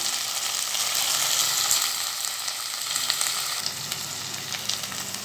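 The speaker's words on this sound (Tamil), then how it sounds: "இஞ்சி பூண்டு பேஸ்ட் நான் இதில் சேர்த்துறேன் இதையும் போட்டு நல்லா வதக்கி போட்டுக்கலாம்" Ginger garlic paste and chopped tomatoes sauté in a pan, giving a steady close sizzle and crackle with faint stirring throughout.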